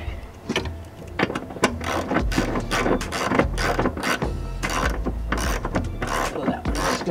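A ratchet tightening a spark plug on a 2010 Toyota Prius: a rapid, steady run of close metallic clicks that keeps going for several seconds at a moderate level, with no talking over it.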